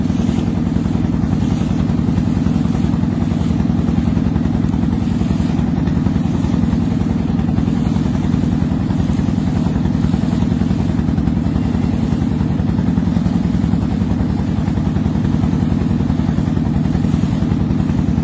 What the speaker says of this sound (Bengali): চাঁদপুর ঘাট থেকে কিন্তু অনেক বড় বড় লঞ্চ ছেড়ে যাচ্ছে তার নিজ নিজ গন্তব্যস্থলে